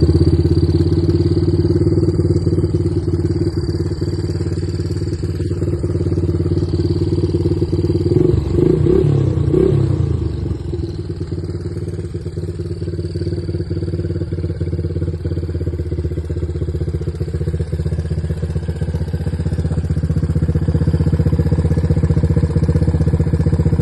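Old Honda 200X-style three-wheeler ATV built from mixed mid-1980s parts sits running steadily, its engine droning and idling close by with a brief rougher, clattery burst partway through and no talk.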